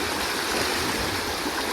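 Floodwater in Laos rushing across and eroding a cut road, a loud, steady, close roar of flowing water with no talk.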